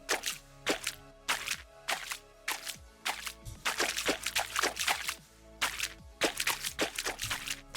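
Splashing footsteps through water from an Unreal Engine 4 game project, a steady walking rhythm of close, wet steps heard alone for several seconds.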